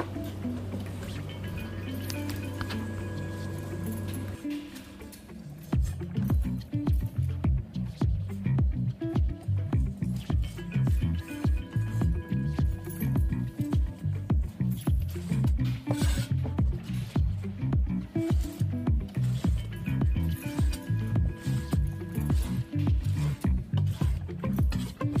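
A knife works steadily on a chili pepper on a cutting board, deseeding and shredding it in fast, regular chopping taps that continue for about twenty seconds after a short quiet stretch, close and clear.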